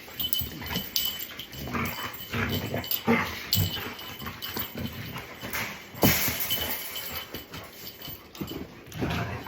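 Dogs play together nearby, with scuffling, paw clatter, panting and small whimpers in an uneven, busy rhythm. A person speaks briefly.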